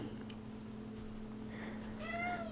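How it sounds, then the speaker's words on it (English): A hungry cat meows once near the end, loud and close, a rising then falling call over a steady low hum indoors. "I'm going to stop, feed the noisy cat"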